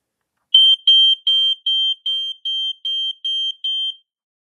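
Probe 105 smoke alarm under test, sounding a loud shrill electronic beep repeated nine times in a steady pulse, each tone held briefly, with no other sound.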